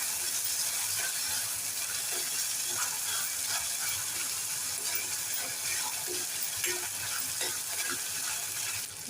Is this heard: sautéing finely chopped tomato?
yes